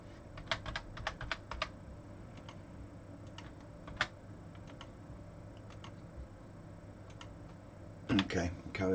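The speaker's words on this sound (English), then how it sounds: "know the keyboard probably sounds like I'm really hitting it" Someone types on a computer keyboard with quick, light clicks that come in irregular bursts, sit close and fairly quiet, and are followed by a louder rattle of keys at the end while a voice talks faintly.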